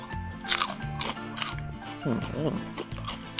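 Crunching bites into crisp, sweet fresh vegetables with chili dip, sharp crackly crunches in quick bursts while people talk nearby.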